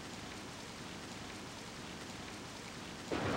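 Rain in the video game Samurai Warriors: a steady, soft hiss of falling rain throughout, with a sudden louder burst of splashing noise near the end.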